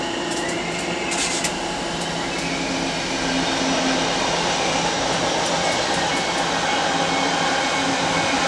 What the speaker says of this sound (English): we pass one of the Bakerloo line's tube trains, a 1972 Mark II stock